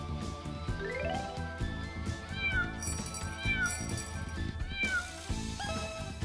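A kitten in the Power Pro baseball video game gives several clear, rising meows, loud and up front over upbeat, rhythmic game music.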